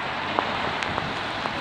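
Steady rain patters on a surface, with a few distinct drops tapping close by.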